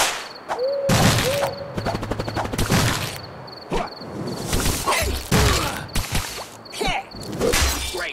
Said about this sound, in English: Hit them with ink! Ink shot!